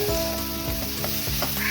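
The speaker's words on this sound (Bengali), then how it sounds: "এই কড়ার মধ্যে আমি অল্প একটু তেল দিয়ে দেবো পেঁয়াজ ভাজার জন্য" Onions sizzle in foaming oil and ghee in a wok, a brief, busy frying hiss broken by a few scraping stirs of a spoon, close and moderately loud.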